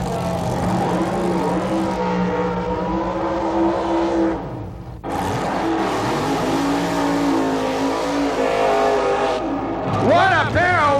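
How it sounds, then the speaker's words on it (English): Supercharged, fuel-injected Chevy-engined drag racing cars from the Wild Bunch class doing burnouts at a 1980s drag strip, with loud sustained roaring and revving engines, a brief drop, then more roaring, and an announcer talking throughout. "What a pair of wild burnouts by these crazy Wild Bunch cars."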